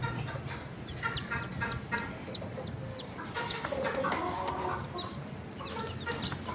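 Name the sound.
Asil rooster clucking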